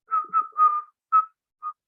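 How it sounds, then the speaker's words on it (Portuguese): A girl whistles a short melodic tune, five clear bright notes in quick succession with brief pauses, close and alone. "Menina assobiando."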